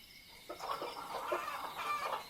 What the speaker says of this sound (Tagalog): Iingay naman ng mga manok mo,